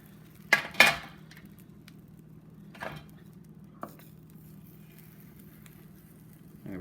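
Egg omelette pushed around a frying pan with a utensil, a few sparse scraping and tapping knocks, two close together then isolated ones, over a quiet hum.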